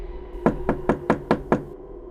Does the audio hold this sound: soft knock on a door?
yes